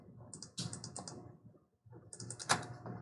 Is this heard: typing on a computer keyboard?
yes